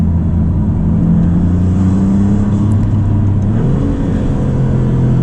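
A 2024 Maserati MC20, a turbocharged sports car, drives over broken-up pavement with a steady close engine drone that rises in pitch near the end as the revs climb. No one speaks.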